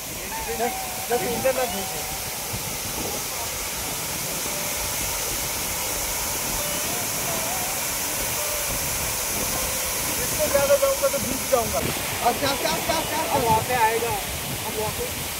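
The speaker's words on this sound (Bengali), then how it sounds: "জলটা এত সুন্দর ঠান্ডা, একদম দারুণ সুন্দর লাগছে ওয়াটারফলসটা দেখতে।" Steady broadband rush of the Moopun waterfall in the East Jaintia Hills, Meghalaya, with water flowing continuously throughout, while voices talk and call out nearby over the roar, growing livelier toward the end.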